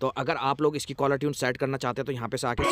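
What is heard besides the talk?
No everyday noises stand out.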